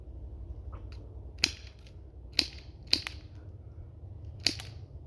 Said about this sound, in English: I've taken the suppressor off, so we're going to do some rounds and see how that sounds